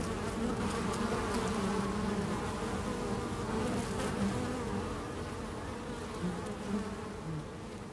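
Many bees buzz in a dense, steady swarm, close and continuous, with a few louder passes drifting through the drone and no voices.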